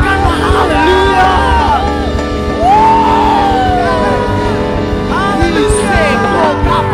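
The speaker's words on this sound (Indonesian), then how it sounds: "sorakan haleluya" A congregation at a church worship service shouts hallelujah together, a loud crowd of overlapping voices, whoops and cheers filling the whole stretch.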